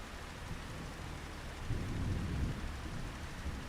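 Steady rain with a low thunder rumble swelling midway, from a storm in the farming game Farming Simulator 25, continuous and fairly quiet with no talk.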